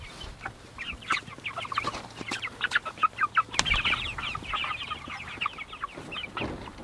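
Meat chickens in a farm pen cluck and chatter in a busy, irregular flurry of short calls, close and fairly loud, with occasional knocks.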